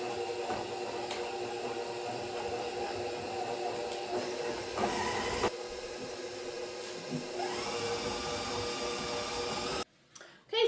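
An electric mixer beating marshmallow cream into a mixture for fluffernutter bars, a steady whirring motor drone running continuously with slight shifts in pitch, then stopping abruptly near the end.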